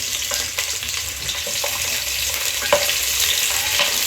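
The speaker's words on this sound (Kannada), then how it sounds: "ಈಗ ಆಯಿಲ್ ಮತ್ತು ಈರುಳ್ಳಿಯನ್ನು ಫ್ರೈ ಮಾಡಿಕೊಂಡು ಮೂಳೆ ಇದೆಯಲ್ಲ ಇದನ್ನು ಹಾಕ್ಬಿಟ್ಟು" Onions and bones fry in hot oil with a loud, continuous close-up sizzle, broken by repeated scraping and clinking stirs of a spoon against the pan at an uneven pace.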